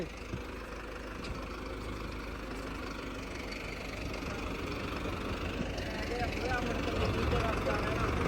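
A tractor engine idles steadily with a low, continuous rumble that grows slightly louder toward the end, while people talk over it outdoors.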